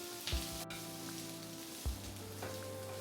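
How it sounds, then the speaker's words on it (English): Onions and peppers sizzle and fry in a hot pan as they are stirred together, a steady crackling hiss with a couple of louder clatters from the mixing, no talking. "So now we mix the onions and the peppers together."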